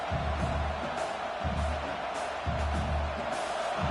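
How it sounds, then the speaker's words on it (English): Home crowd roaring in the NCAA 26 college football video game as a bowl game gets underway, a steady broadband wash of stadium noise with a low rumble, swelling slightly in waves and never dropping away. "this home crowd is fired up and ready to make a difference today"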